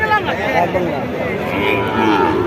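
A cross-breed Jersey calf, about eight months old, lows at a busy cattle market, its calls blending with steady crowd chatter and nearby voices throughout.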